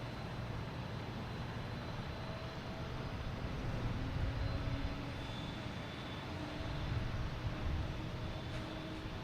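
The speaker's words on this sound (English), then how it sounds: "We have Delta coming in from Philadelphia and E170." A Delta Embraer E170 airliner arriving at Boston Logan Airport gives a steady, broad jet roar that swells slightly mid-way and holds at a moderate distance, heard alone without talk.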